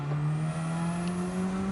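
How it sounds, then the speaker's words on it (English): Tyres squealing on a race car in the Gran Turismo 7 video game, heard as a sustained high whine over a steady, slowly rising engine drone. The sound is continuous and moderately loud, with no talking. "Oh, I can hear the front tyres screeching."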